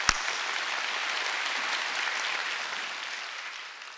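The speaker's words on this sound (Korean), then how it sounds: "박수 세게 치라고. 세게." A church congregation at a Wednesday worship service breaks into loud, sustained applause that fills the room steadily for several seconds, then eases slightly at the end.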